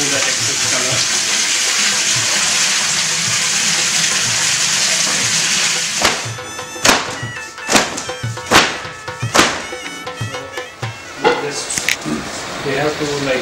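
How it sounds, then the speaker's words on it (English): Bandhani tie-dyed fabric from Kutch rinsed in plain water, a steady rush of running water followed by repeated splashes and sloshing as the cloth is worked, with a person speaking over it. "Now we are washing this in plain water to just remove the excess color."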